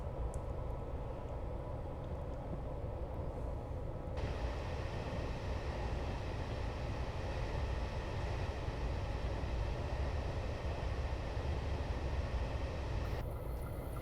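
A train rumbles past in Train Sim Classic on the Leicester to Lincoln route, a steady loud roar of wheels and rolling stock swelling in suddenly and holding for about nine seconds before cutting away.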